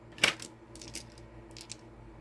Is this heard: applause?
no